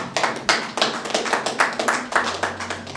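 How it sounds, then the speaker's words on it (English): Scattered clapping from a gala-night audience at a sports medicine celebration, sharp hand claps arriving in irregular bursts, moderately near, with a low hum running underneath. "Please, a round of applause"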